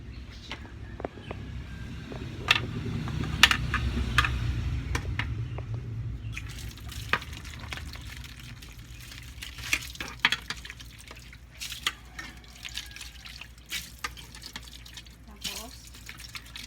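Water runs from a tap during hand washing of dishes, a steady splashing stream near the start that gives way to scattered drips and clinks, with voices talking throughout.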